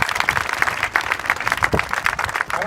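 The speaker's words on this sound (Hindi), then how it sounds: "आदित्य के लिए जोरदार ताली बजाओ" Loud, steady applause from a group at a school-style gathering, rolling clapping sustained for about three seconds with no voices over it.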